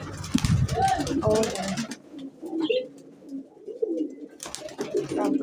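Pigeons coo softly in low throaty bursts, with voices talking over the first part and again near the end.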